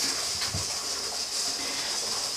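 A Presto pressure canner, 16-quart, hisses steadily while processing beef stew: a constant, fairly quiet steam hiss running the whole time with no talk over it.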